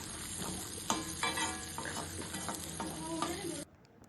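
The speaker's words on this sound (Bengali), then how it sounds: "তো পেঁয়াজগুলো ভাজা হয়ে গেছে, সেখানে দিয়ে দেবো আমি মশলাগুলো" Sliced onions and spices with chilli sizzle in a wok under repeated scraping stirs. The crackle is close and busy, then cuts off abruptly near the end, leaving near silence.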